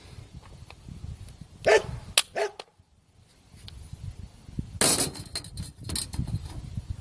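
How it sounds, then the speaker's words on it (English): A dog barks outdoors, a loud close bark, then a couple of shorter yips, and another bark later, over a low background rumble. "I think I was distracted with the dog."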